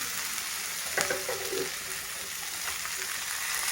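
Chopped tomato and green beans frying together in a pan for a potato, beans and methi stir-fry: a steady, close hiss of sizzling oil, with a brief clink and stirring near the start.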